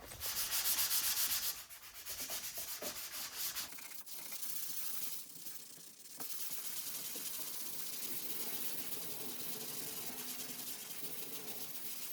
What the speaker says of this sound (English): I'm just going to use my sanding sponge and smooth this all out